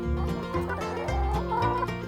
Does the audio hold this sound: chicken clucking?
yes